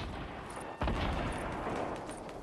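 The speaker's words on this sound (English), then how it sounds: "Trying to grenade you guys, watch out." A grenade bursts in a video game firefight, one sudden loud blast that rolls into a rumbling tail over steady background combat noise, with no talking.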